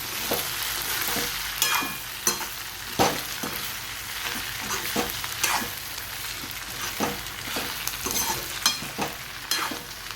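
Okra and potato curry stirred in a pan, with a steady sizzle under repeated scraping and clacking stirs at an irregular rhythm, close and fairly loud.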